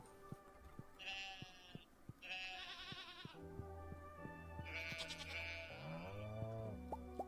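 Sheep and goats bleating on a farm in the Stardew Valley video game, several drawn-out bleats in succession, clear and close over a light plucked musical background.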